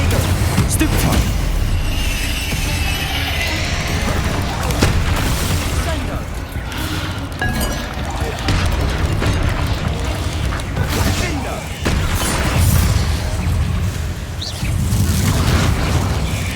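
Spell blasts and booming explosions crash through combat in Hogwarts Legacy, played on Xbox Series S in a catacomb, with repeated heavy bursts over a dense, continuous din of battle effects.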